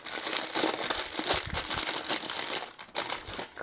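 Paper packaging crinkles and crumples steadily as a knife subscription box is unwrapped, a dense, close rustling with sharper crushing bursts and no talk.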